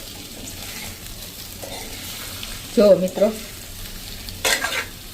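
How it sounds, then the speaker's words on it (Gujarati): Fenugreek-leaf patra rolls sizzle steadily in hot tempering in a pan as they are tossed and stirred, with a few louder scraping bursts and a brief spoken remark. "આ રીતે પાત્રા નાખીને અને એને આપણે આવી રીતે ટોસ કરી લેશું"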